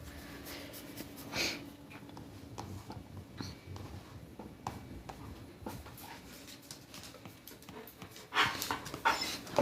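A puppy pants and whimpers close by in a quiet room, soft breathy huffs running throughout with a few brief whines and a louder flurry of snorting near the end.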